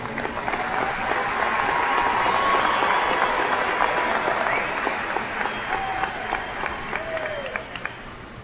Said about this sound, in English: Please, with your applause, recognize that with me.